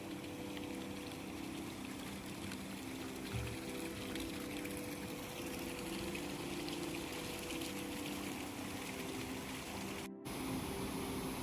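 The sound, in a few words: Oued Farda river water running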